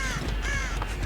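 Several crows caw sharply as they are startled into flight in the horror video game Dead by Daylight, on the Mount Ormond map; close, loud calls over a steady low game ambience, lasting about a second.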